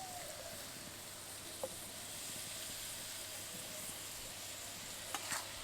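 Cut paneer pieces tossed into vegetables frying in a pan: a steady, moderately quiet hiss of oil sizzling throughout, with a couple of faint taps near the start and end.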